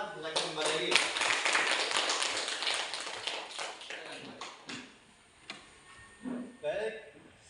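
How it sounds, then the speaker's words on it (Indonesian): A classroom group claps for group 2, a dense patter of many hands that swells, then thins to scattered claps with a few voices near the end. "kita beri aplaus kepada kelompok 2"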